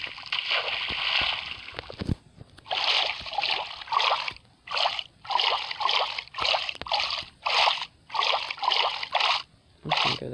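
Water splashing and sloshing in the ocean in Minecraft, a series of rhythmic bursts roughly every half second that come close and fairly loud, with no voices over them.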